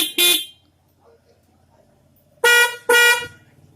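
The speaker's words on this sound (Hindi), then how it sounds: "तो आप देख सकते हैं हॉर्न दोनों काम करने लगे हैं।" Twin motorbike horns fitted on a dual-switch setup blare together in three short, loud bursts, one at the start and two close together near the end, with quiet gaps between.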